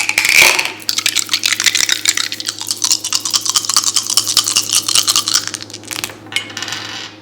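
Dice rattling and clattering onto a surface during a tarot card reading, a dense run of small sharp clicks and taps close up for several seconds, with no talking.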